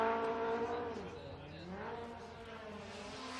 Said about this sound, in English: You can hear that exhaust note.